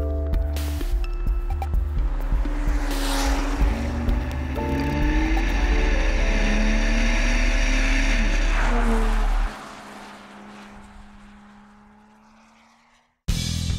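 A Volvo S60 Polestar with a 6-speed automatic pulls away hard, its engine note climbing through rising, shifting tones before easing off, then cutting out near the end; no voices.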